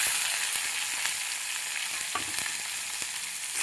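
Chopped onion fries in hot oil with curry leaves and coriander, giving a loud, even, close-up sizzle that holds steady throughout with faint crackles and no talking.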